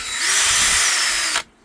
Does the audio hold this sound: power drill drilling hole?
yes